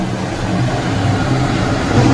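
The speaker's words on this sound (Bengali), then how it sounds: "এদিকে দেখো চিমনি চলছে, তার জন্য আওয়াজ পাবে" A kitchen chimney exhaust hood runs as a loud, steady, low droning rumble with a broad whooshing airflow, constant throughout with no voices over it.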